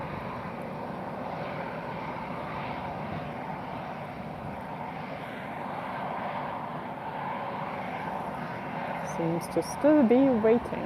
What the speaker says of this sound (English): This Lauda Airbus should advance, although I do see another landing, but it's still far off.